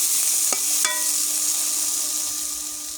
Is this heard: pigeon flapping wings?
no